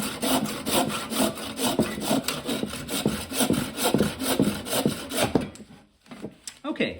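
A hand saw cuts through blackthorn wood for a walking stick with steady rhythmic back-and-forth strokes, close and clear, until the sawing stops shortly before the end.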